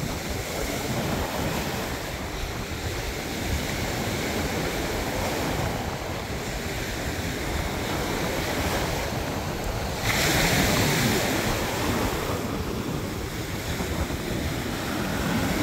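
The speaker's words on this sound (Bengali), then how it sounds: "ঢেউয়ের শব্দটা একটু 30 সেকেন্ড শোনাই" Ocean surf rolls onto a Florida beach at night, a steady broadband wash with periodic swells of breaking waves and some wind noise on the microphone, no talking heard.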